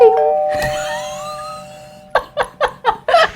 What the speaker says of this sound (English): Can we do some other kind of bell sound where we go, bing?